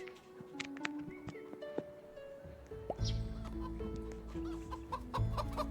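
Chickens in the Roblox game Chicken cluck and squawk in short, scattered calls over a steady low hum, getting busier and louder partway through.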